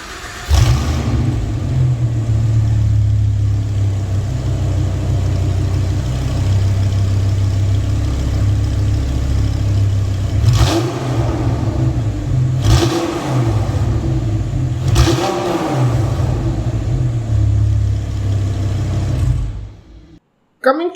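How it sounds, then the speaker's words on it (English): An Audi R8 V10 producing 525 horsepower starts up and settles into a loud, steady rumble close by, with three sharp revs near the end before cutting off. "So how does starting up 525 horsepower sound like?"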